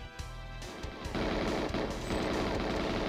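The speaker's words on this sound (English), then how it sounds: "I'm just shooting wildly." Gunfire rattles through a James Bond video game, loud and continuous bursts of shooting that swell into dense, sustained automatic fire.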